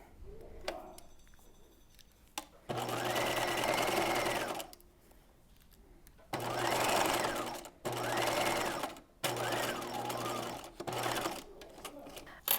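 Sewing machine stitching a seam on a top, four steady whirring runs of one to two seconds each, separated by short pauses and quiet handling noise.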